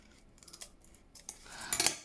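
Scissors snipping paper scraps for junk journal embellishments: a few quiet, close cuts, then a brighter, crisper burst of snipping at the end, with no talking.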